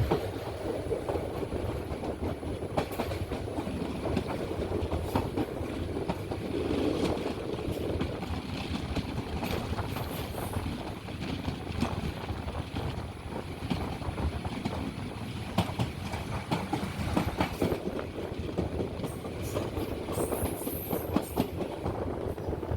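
A train pulls into Nagercoil Junction on the way to Kanniyakumari, a steady rolling rumble with clattering wheel and carriage noise heard from on board, continuous and fairly close.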